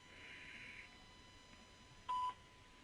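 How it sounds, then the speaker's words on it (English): A single short electronic beep from a telephone voicemail system signals the start of recording, a clear steady tone lasting about a fifth of a second after a faint quiet line hiss. "At the tone, please record your message."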